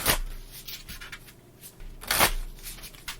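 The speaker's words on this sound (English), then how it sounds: "I'm going to give these a couple quick shuffles." BitterSweet game cards are riffled and shuffled at close range, giving bursts of crisp flutter with a louder riffle about two-thirds of the way through.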